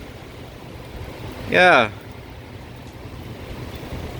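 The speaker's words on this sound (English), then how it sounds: "it's real fucking windy." Strong Hurricane Ida winds in a backyard roar as constant broadband rushing noise, with a short spoken word cutting in about midway.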